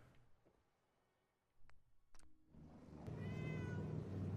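A cat in Fallout 4's Far Harbor meows once, close and clear, after a few quiet clicks and ticks, with a steady background hum rising beneath it.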